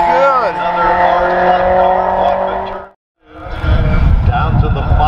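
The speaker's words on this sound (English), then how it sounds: "Our Honda F2000. Oh, that sounds good." A Honda F2000 open-wheel race car screams along a track at high revs, its engine note loud and steady with a rising pitch sweep, cutting out briefly before another loud pass.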